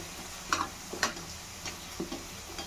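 Radhaballavi, a stuffed flatbread, fries in hot oil while oil is splashed over its top, giving a steady close sizzle broken by a few soft taps and clinks.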